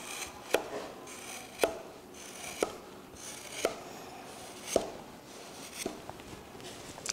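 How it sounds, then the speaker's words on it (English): A knife tip pierces and scores the skin of a raw pork loin on a board. It makes a series of sharp, quiet clicks at roughly one-second intervals over a soft background hush. "carefully insert just the tip of my knife at various intervals, but roughly the same, and we're just cutting through skin"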